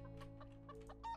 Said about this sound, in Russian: Какие-то курицы у нас тут кудахчат.